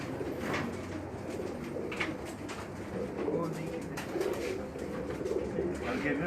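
Flock of breeder pigeons cooing around a rooftop loft in a busy square, a steady soft murmur of coos under traffic-like background noise, with faint voices mixed in.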